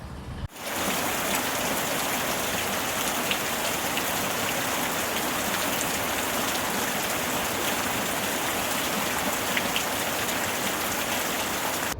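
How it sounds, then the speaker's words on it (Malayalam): Heavy rain begins abruptly and then pours steadily, a dense, loud hiss of drops drumming on surfaces, driven by wind, with no talking. "ഒരു രക്ഷയില്ലാത്ത മഴയായിരുന്നു പെട്ടെന്നൊരു മഴ വന്നു നല്ല കാറ്റുമായിരുന്നു"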